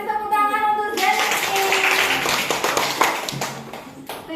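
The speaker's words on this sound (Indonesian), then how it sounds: "kasih tepuk tangan untuk Jenny." Classroom applause for a student after a presentation, a broadband burst of clapping rising after a brief voice and continuing steadily for several seconds, with a voice faintly underneath.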